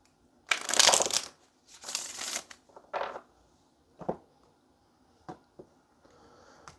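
Several bursts of tarot card shuffling, two long riffles followed by shorter ones and a few light taps, close and fairly quiet with no talking.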